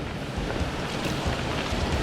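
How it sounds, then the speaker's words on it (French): Mountain stream near Magland in the French Alps rushes down toward a waterfall, a steady, dense broadband roar of flowing water close by, with no voices. "J'arrive au fameux ruisseau qui donne la cascade, cette fameuse cascade, voilà, qu'on va devoir traverser."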